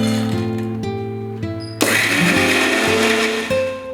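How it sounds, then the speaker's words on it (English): Electric kitchen mixer grinding fried onions and toasted makhanas into a paste, a loud steady motor whine whose pitch shifts as it runs in short pulses, with a burst of coarse grinding noise midway. "add the fried onions and the toasted makhanas to a mixer and grind into a smooth paste"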